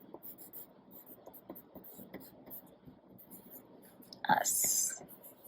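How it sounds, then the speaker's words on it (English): Pen or marker scratching out lettering across the top of a paper art flag, soft, close and intermittent strokes under quiet whispery talk, ending in a brief louder scraping rub. "now I'm going to write at the top, Art"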